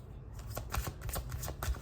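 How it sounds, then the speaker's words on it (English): A deck of tarot cards is shuffled in a quick, close riffle of soft papery flutters and taps, quiet and steady with no talking. "Shuffle for the earth signs."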